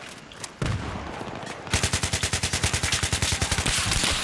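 An AK-74M fires in Battlefield 3 team deathmatch on the Canals map, with a loud sustained burst of rapid automatic gunfire in an even rhythm, preceded by a shorter shot and background game noise.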